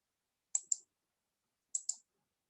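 Two pairs of crisp double mouse clicks, close and quiet, with a short silent pause between them, made while working in a Microsoft Word table cell.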